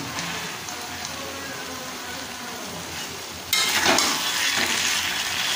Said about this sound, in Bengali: হালকা আঁচে মশলার সাথে কড়াই নারকেল ভালো করে কষতে হবে